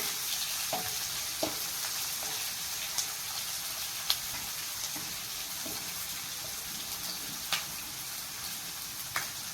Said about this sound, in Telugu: ఉల్లిపాయలు వేసుకున్నాము. ఉల్లిపాయలు వేగాలి.